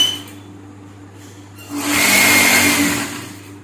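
A sewing machine stitches the lower edge of a blouse sleeve. A single short burst of close, buzzing motor whir lasts about a second and a half, set between quieter moments.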